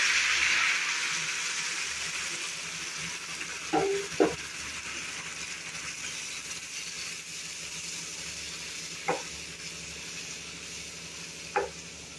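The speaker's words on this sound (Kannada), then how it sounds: "ಕುದಿಸಿದ ಗಜ್ಜರಿ ಪುರಿಯನ್ನು ಹಾಕಬೇಕು" Boiled grated carrot for halwa fries quietly in a pan with a soft, steady sizzle. A few sharp stirring scrapes or clinks come at scattered moments.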